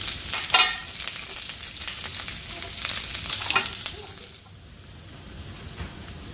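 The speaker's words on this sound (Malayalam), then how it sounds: "നമുക്കിതിലേക്ക് അരിഞ്ഞു വെച്ചിരിക്കുന്ന ചുവന്നുള്ളിയും കറിവേപ്പിലയും ചേർത്ത് കൂട്ടിച്ചെടുക്കാം." Chopped shallots and curry leaves sauté in hot oil for a homestyle beef bone curry, a close, continuous crackling sizzle broken by occasional stirring scrapes, with no talk.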